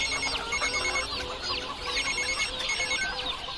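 A telephone rings on an outgoing call in a Tamil comedy film scene, with a repeating warbling electronic ring over busy, chirpy background sound and no speech.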